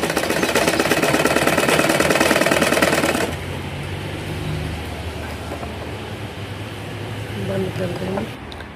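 A sewing machine stitches a belt onto a child's skirt, its rapid mechanical chatter running loud and close for a few seconds before stopping, leaving quieter handling noise and a voice.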